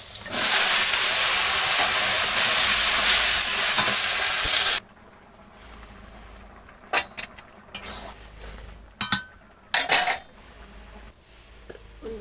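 Mixed vegetables hit hot oil with chili for a bengali soybean and mixed-vegetable curry: a loud, dense sizzle roars for about five seconds, then drops to a quieter simmer broken by several sharp clinks of a spoon against the pan.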